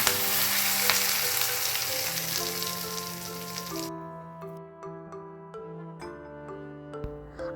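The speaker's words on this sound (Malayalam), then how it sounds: "വെളിച്ചെണ്ണ ഒഴിച്ച് കടുകിട്ട് അങ്ങനെ തന്നെ വറ്റൽമുളകും ഇട്ട്" Mustard seeds and dried red chillies hit hot coconut oil for a tempering, a loud bright sizzle that cuts off abruptly partway, followed by quieter scattered pops, taps and clinks.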